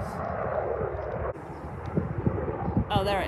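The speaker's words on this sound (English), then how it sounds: "I was trying to find the helicopter." A helicopter flying overhead above an outdoor cut-flower garden in May, a steady distant rotor and engine drone that continues throughout, with wind buffeting the microphone and a person talking over it.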